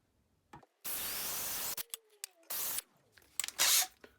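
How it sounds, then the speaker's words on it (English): Bursts of drilling as a split point drill bit bores a 3mm hole, loud whirring spells of about a second separated by short pauses and clicks, with a final harsher burst near the end. "Right, let's get drilling."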